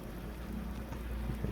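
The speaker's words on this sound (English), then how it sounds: "Oh, heavy rain." Heavy rain in Skyrim, a dense continuous hiss of downpour with a low rumbling undertone, steady and fairly quiet, with no voices.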